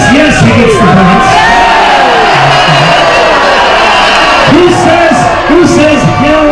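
A loud studio crowd at a game show shouts its answer in unison. Rising yells and whoops swell, ease off, then surge again in a second burst.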